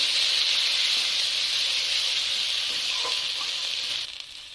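Spices with salt and turmeric sautéing in a pan for an okra roast, a dense, continuous sizzle held close and loud, easing off near the end with a faint scrape.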